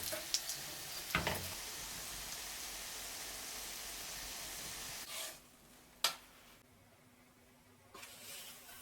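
Chicken puff pastry pies frying in a pan, a steady close sizzle with a couple of clacks as they are flipped, after which the sizzle drops to a quieter crackle.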